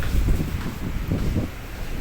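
Steady, rumbling wind buffets the microphone during a Hong Kong typhoon signal 10, a low roaring gust that swells and eases without letup.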